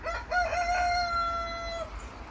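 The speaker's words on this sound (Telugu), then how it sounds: "ఇక్కడ కోళ్ళు భలే వస్తుంటాయి తెల్లవారుజామున భలే ఉంటుంది వీటి సౌండ్ వింటే" A rooster crows once at dawn beside hills in Korea, a single clear, drawn-out cock-a-doodle-doo at moderate distance, with no talking.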